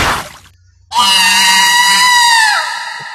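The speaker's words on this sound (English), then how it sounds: "I'm getting really sick and tired of hearing that scream." A loud, sustained synthetic scream from the horror video game Mad Father, rising sharply after a brief near-silence and holding steady for about two seconds before tapering off.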